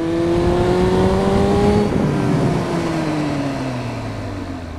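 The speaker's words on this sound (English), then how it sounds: "That's some pretty firm braking." A car brakes firmly in traffic, its engine tone sliding steadily downward as it slows, loud and close against a rushing road background, with no one speaking.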